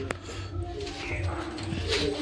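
Pigeons cooing in their cage, soft repeated throaty coos up close over a low steady background hum.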